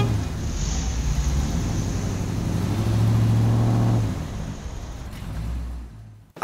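A red sports car engine runs steadily and loud, a low drone that swells around the middle as if revving, then eases off and fades near the end.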